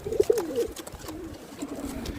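A pigeon coos softly up close, a few throaty low murmurs in quick succession, then a quieter drawn-out coo.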